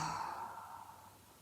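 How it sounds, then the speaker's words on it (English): A single slow, soft exhale during gentle yoga breathing, fading gradually over about a second. "Inhale, exhale. One more time."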